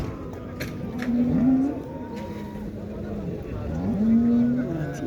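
Cattle at a Turkish livestock market in Şarkışla give two long, loud moos a few seconds apart, heard over steady crowd murmur and background chatter.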